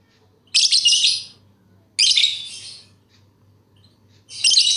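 Toy bird chirping in three separate bursts of bright, rapid tweeting, each lasting about a second with short quiet gaps between, fairly loud and close with a faint low hum underneath.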